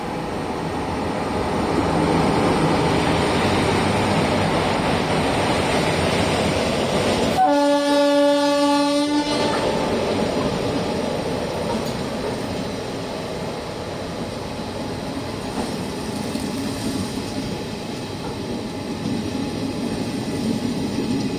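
An Indian Railways express train passes close by at a crossing, a loud continuous rumble and clatter of wagons with a sustained horn blast partway through, heard alone without talk.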